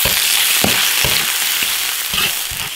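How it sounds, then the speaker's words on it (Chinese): Pieces of free-range chicken stir-fry in hot oil in an iron wok, with a loud, close, constant sizzle cut by a handful of rhythmic spatula scrapes and knocks against the metal. "鸡子直接下锅炒，"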